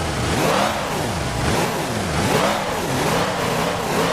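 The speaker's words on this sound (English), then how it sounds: "this is what the sound of the stock Challenger is in CPM1" A stock Dodge Challenger in the Car Parking Multiplayer game revs repeatedly, its loud engine note rising and falling in smooth cycles about once a second with no talk over it.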